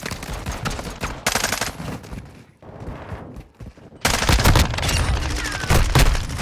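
Hip-fired bursts of automatic gunfire in a Call of Duty match, rapid loud cracks in dense volleys with a short lull in the middle before heavier firing resumes.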